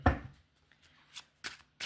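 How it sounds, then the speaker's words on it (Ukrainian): Tarot cards slap and flutter out of a deck in a few quick, crisp bursts separated by brief quiet gaps. "летять карти. Давайте подивимося, вони прям вилетіли відкритими."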